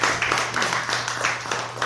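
An audience claps at a Buddhist Sunday dharma talk, a short burst of scattered, moderately close hand claps with an electrical hum beneath.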